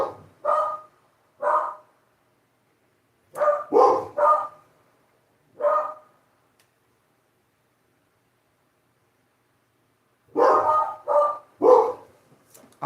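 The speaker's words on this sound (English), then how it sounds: "They don't usually bark like that, so when they do, it gets my attention." Dogs bark in three clusters of sharp, fairly close barks, a few quick woofs each, separated by long silent gaps, with no talking alongside.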